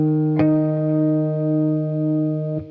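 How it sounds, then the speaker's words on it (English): Electric guitar tuning with harmonics: two plucks about two seconds apart, each leaving steady ringing tones that overlap and sustain loud and close, colored by an effects unit with slight distortion and reverb. "you're doing it with harmonics and you can hear the difference between the pitches a lot more specifically"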